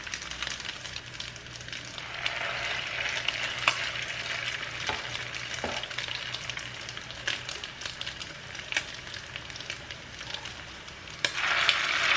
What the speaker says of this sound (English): place those patties in the pan one at a time, and you're going to cook them for about 3 to 5 minutes per side